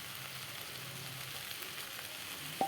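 Onions and green chillies frying in a pan of oil for a vegetarian soybean dish, a soft steady sizzle, quiet and close, with a brief clink of a utensil near the end.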